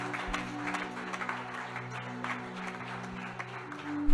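Congregation applause at a church missionary congress, a steady wash of many hands clapping together under a low sustained organ or keyboard tone, continuing evenly throughout.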